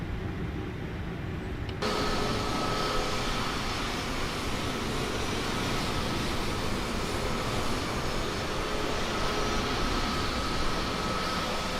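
An Airbus A320neo's jet engines spool up at Puebla airport in Microsoft Flight Simulator 2020, a sudden broad roar that kicks in after a quieter lead-in and then holds as a steady loud whine and rumble with no voices.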